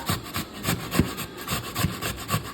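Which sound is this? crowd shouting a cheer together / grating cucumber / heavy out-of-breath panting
grating cucumber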